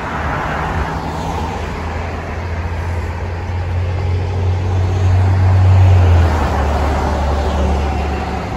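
Traffic rumbles along the main road in front of a hotel in Washington DC, a low steady roar that swells as a heavy vehicle passes close by, then eases off.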